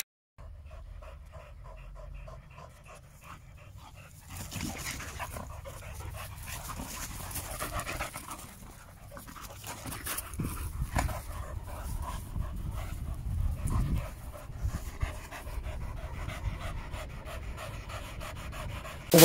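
An American Pit Bull sport dog pants rapidly and close to the microphone, quick rhythmic breaths running steadily throughout, with a few brief whimpers and soft rustling in the background.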